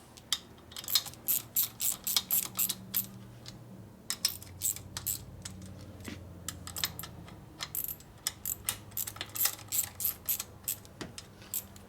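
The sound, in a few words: tightening 1/4 inch bolts on Harley Evo motor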